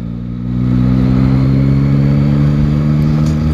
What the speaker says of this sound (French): Le bruit avec le pot d'origine, franchement, c'est pas mal.